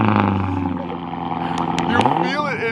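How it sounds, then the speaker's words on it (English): A Lexus LS 430 car engine cold-starting and rumbling loudly nearby, climbing into a revving roar, with a few sharp clicks and wind noise near the end. "I never like get to stand behind the car to hear the cold start"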